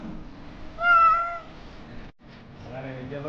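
A house cat meows at home in Buxar, India, one clear rising-and-falling cry followed by a softer, fainter meow after a short pause, with low household background noise.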